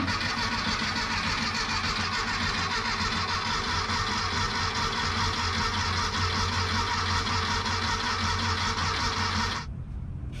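A VW Beetle engine in a Volksrod Baja build cranks over on the starter to build oil pressure without firing. It makes a loud, steady mechanical churn for about nine and a half seconds, then cuts off abruptly.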